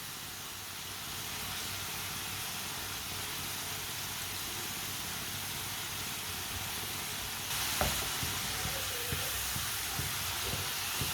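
Homemade fries sizzle steadily in hot oil in a pan, a constant broadband hiss that grows louder near the end as the food is stirred, with a few soft scraping knocks from the utensil.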